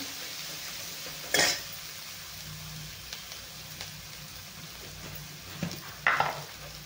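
Tomatoes stirred into roasted spice masala in a hot pan, a low steady sizzle broken by a few sharp spoon-scraping strokes, close and without voices.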